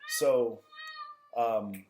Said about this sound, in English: that's my cat right here